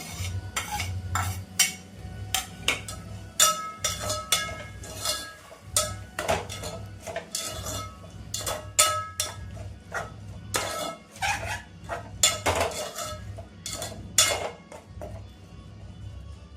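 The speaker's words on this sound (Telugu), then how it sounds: "ముందుగా క్లీన్ చేసి ఉడకబెట్టుకున్న బోటి ముక్కల్ని వేసుకుందామండి." Boiled, cleaned goat intestine pieces going into a pan with fried green chillies, then being stirred: a dense run of sharp metal spoon clacks and scrapes against the pan over a low sizzle, close and fairly loud, with no voices.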